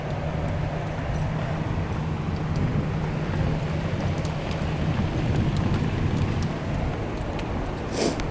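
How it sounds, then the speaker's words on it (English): Heavy pouring rain roars in a steady thick wash through a thunderstorm, with a low rumble underneath and a brief brighter burst near the end. "it's pouring now. The lightning thunder hasn't gotten crazy yet"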